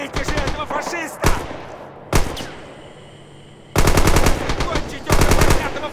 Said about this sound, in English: Now we're trapping Germans in Crossfire.